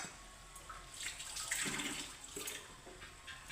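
Water splashes and pours over a stone grinding slab being rinsed in a home kitchen, a soft close trickle swelling briefly in the middle.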